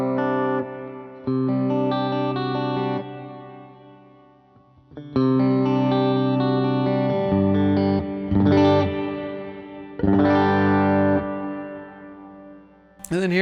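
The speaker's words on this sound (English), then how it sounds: "Here is a medium reverb." Electric guitar on a worship pedalboard, sounding through a medium reverb setting: sustained chords and notes ring out with lingering tails, pausing briefly near the middle before more chords swell, close and clear with no talking.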